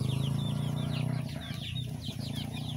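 Asil gamefowl and native crosses cluck and rustle close by in a farmyard, with repeated short calls over a steady low background hum.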